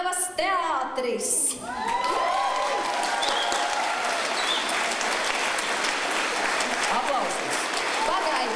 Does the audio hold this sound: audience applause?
yes